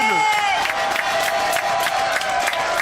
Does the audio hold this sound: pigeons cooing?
no